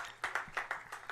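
Faint, scattered hand claps from a small crowd at a high school baseball game come in an uneven rhythm of about six claps over a second, with no other sound.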